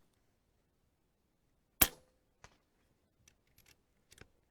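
A single sharp, loud crack from an American Air Arms EVOL airgun firing at a target, followed by several faint, scattered ticks and clicks in an otherwise quiet outdoor setting.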